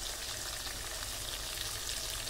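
Chicken leg pieces frying on a gas stove, a steady, dense hiss and crackle of hot oil that holds constant and close throughout, with no voices.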